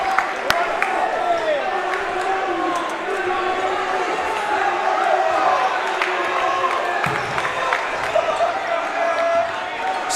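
A dense gym crowd at a Salesianum versus St. Andrew's high school basketball game claps and cheers continuously, with sneaker squeaks and scattered shouts rising above the steady applause and crowd noise.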